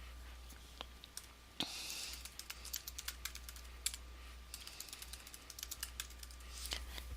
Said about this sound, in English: in the next box you type in what you want to appear in